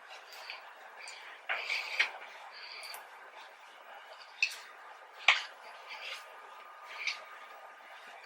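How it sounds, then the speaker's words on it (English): Hands scrunch damp curly hair with no heat, giving soft wet squishing and crackling sounds close up, with a few sharper squelches over roughly eight seconds. "And then I'm gonna scrunch it up even more."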